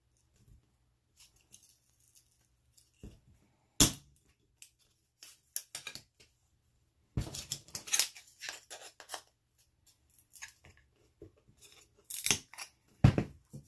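Scissors snipping the ears off a Dollar Tree rabbit decoration, with scattered sharp close cuts and crunches separated by quiet pauses, and a denser cluster of snips midway, with no talking.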